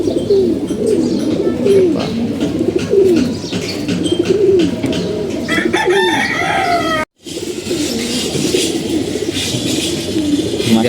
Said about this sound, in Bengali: একই স্টাইলের কবুতর সব সাদা পাখি কবুতর